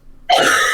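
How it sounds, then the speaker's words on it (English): A single abrupt cough, sharp and close, bursting out of silence and holding as a raspy, throaty blast to the end. "You gotta keep coughing out of character or else you might forget to cough in character."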